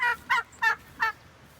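Turkeys kept alongside chickens let out four quick gobbling calls in a rapid uneven burst, close and fairly loud, then quiet.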